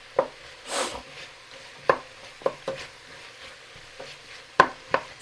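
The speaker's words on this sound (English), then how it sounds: "I'm going to stir it one more time and get my corn in" A spoon stirring ham and potato chowder with mirepoix and garlic in a pot, a few sharp clinks and scrapes spaced irregularly over a soft background, close and moderately loud.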